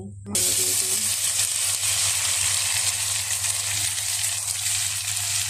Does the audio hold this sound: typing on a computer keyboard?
no